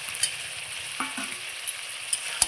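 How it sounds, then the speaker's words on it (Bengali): Fried hilsa fish heads go into a pan of frying mixed vegetables with potatoes, giving a soft, steady sizzle close by with a few light stirring knocks and clinks. "এবার আমি দিয়ে দিচ্ছি ভেজে রাখা ইলিশ মাছের মাথা।"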